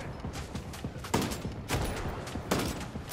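Rapid gunfire in the video game Ghost Recon Breakpoint, with dense crackling volleys and several louder bursts standing out over a continuous background of shots, with no voices.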